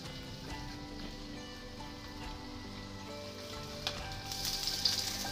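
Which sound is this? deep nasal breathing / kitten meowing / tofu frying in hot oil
tofu frying in hot oil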